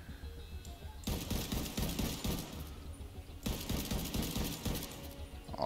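Bursts of automatic gunfire in The Division 2, two sustained rapid volleys separated by a brief lull, loud and close with a dense crackling texture.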